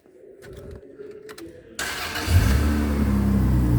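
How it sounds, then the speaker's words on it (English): A 1996 Rover Sterling saloon's engine cranks with a few faint starter whirs, then catches and fires into a loud, close, rough idle that settles into a steady rumble. "I'll crank it up for you now."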